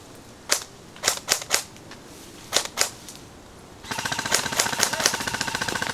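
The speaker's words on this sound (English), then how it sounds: "Shots fired. Looks like some close quarter battle here." Gunfire in a close-quarters battle: several sharp, separate shots ring out close by in an uneven rhythm, then a rapid, continuous burst of automatic fire takes over to the end.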